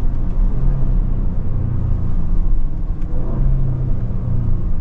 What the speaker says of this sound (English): Beautiful downshifts,